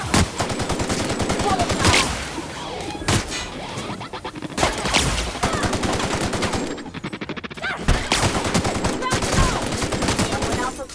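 Robot security weapons in the sci-fi game The Outer Worlds fire loud, rapid automatic bursts, broken by short pauses, with a few heavy impacts between volleys.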